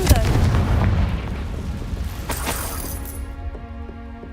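A Confringo fire-blast spell explodes in the wizarding game Hogwarts Legacy, a loud burst at the start that decays over a few seconds into fading rumble while faint tonal music remains.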